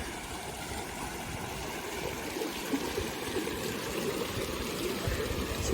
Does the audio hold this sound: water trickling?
yes